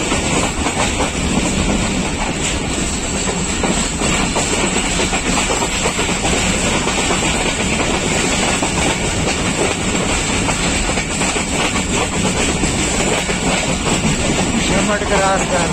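The Thal Express, a Pakistan Railways passenger train on the Rawalpindi to Multan route, makes a loud, continuous rumble with rhythmic wheel clatter and hiss, heard from close by for the whole stretch.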